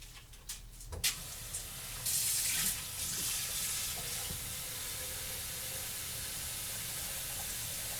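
Water gushes from a tap in a steady hiss after a few clanks, running continuously to the end.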